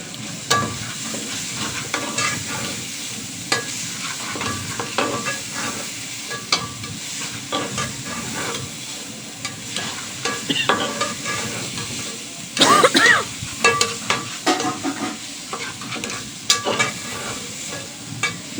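A mixture is sautéed and stirred in a pan, with a continuous sizzle and frequent scraping spoon strokes close by, growing busier and louder toward the end.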